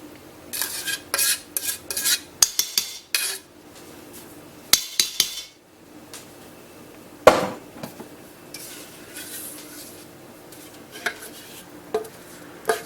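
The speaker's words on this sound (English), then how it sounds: "And then just mix this together really well" Zucchini bread batter being mixed in a bowl, with repeated close scraping and clinking of a utensil against the bowl in uneven bursts, separated by quieter pauses.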